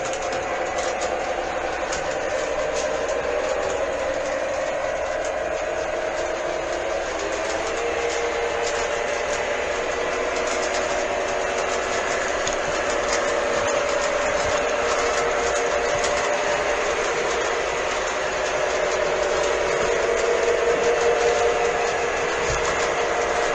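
An RS3 locomotive runs on rails with a continuous, even mechanical hum and whining tonal drone that persists for the whole stretch, with no voices.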